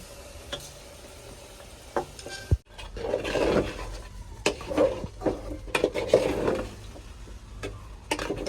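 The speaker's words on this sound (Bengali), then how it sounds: "চাল দিয়ে কষাই নিব" Scraping and clinking of a spoon stirring uncooked rice being sautéed in a metal pot before water is added, irregular scrapes and taps close by, with no voices.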